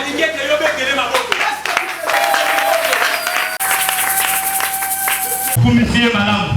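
A congregation at a church service claps and applauds loudly and steadily, a dense wash of hands that continues throughout, with a preacher's voice speaking over it.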